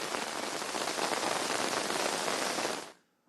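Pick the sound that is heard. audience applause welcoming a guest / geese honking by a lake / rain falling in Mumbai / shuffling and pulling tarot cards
rain falling in Mumbai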